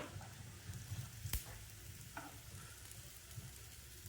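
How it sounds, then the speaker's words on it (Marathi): Coriander vadi frying on its second side, a quiet, even hiss of hot oil with one sharp tap partway through, faint and steady. "आता आपण उलटूया आणि दुसरी बाजू फ्राय करूया"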